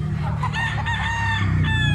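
A farm rooster crows in one loud, drawn-out call close by, with clucking fowl and a faint low murmur in the background.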